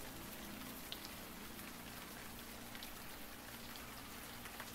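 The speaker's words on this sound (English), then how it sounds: "It's raining buckets." Steady heavy rain pours down without a break in the video game The Blackwell Epiphany, a dense even hiss with occasional louder drops spattering nearby.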